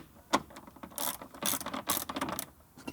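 A ratchet loosening a fastener inside an Audi A4 B8 during headliner removal, giving rapid clicking bursts in short spurts, close and moderately loud.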